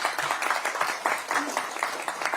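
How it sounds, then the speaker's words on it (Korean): Applause from a crowd at a Korean Democratic Party election committee launch, a steady dense patter of many hands clapping at moderate level for a former governor being introduced. "우리 이시종 전 지사님께 박수 한번 보내주시고요"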